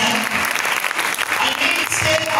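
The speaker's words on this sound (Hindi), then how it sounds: "तो हम अपने बाप के लिए जोरदार ताली बजा सकते हैं।" A church congregation claps loudly for fathers during a Father's Day service, a dense and steady wave of applause that holds for the whole stretch with no pause.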